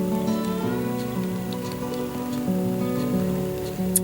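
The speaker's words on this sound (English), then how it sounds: "It wasn't much of a rain shower. It just kind of sprinkled a little bit, but it's enough to get me wet." Light rain shower sprinkling outdoors, a soft, steady patter of drops heard on its own without any talking.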